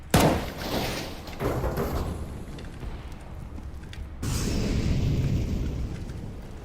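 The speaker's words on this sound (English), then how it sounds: "Throwing a grenade." A grenade goes off in a video game: a loud opening boom followed by rumbling and scattered impacts, with a second heavy burst arriving a few seconds later and sustaining a low roar to the end.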